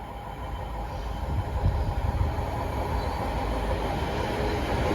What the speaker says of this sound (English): we have another freight train from Sutton to Birch Grove